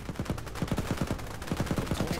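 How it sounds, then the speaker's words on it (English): Rapid automatic gunfire from the video game Global Conflagration, a base-building RTS, with bursts of repeated shots running steadily through the whole stretch at a fairly even rhythm, moderately loud with no talk. "They are shooting at us."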